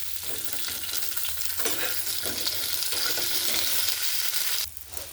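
Okra fries in hot oil in a pan, a loud, continuous close sizzle with stirring, easing off slightly at the very end and with no talking.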